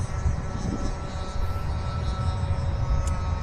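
Align T-Rex 500X electric RC helicopter on its maiden flight, rotor and motor whining and whirring steadily as it spools up, loud and close outdoors.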